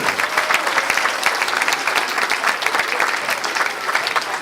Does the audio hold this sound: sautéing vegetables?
no